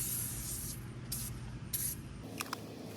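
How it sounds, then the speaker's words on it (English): Super Clean aerosol foam cleaner sprays onto a grimy livestock trailer in several short, hissing bursts of varying length, fairly faint, over a low steady rumble. "I would try something else with the aerosol can, because the aerosol just seems to work like really good, especially because it foams"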